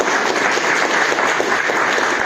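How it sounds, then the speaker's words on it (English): An audience at a physics talk applauds warmly as the speaker is welcomed, a steady, dense wash of clapping throughout. "give a warm applause to Francisco"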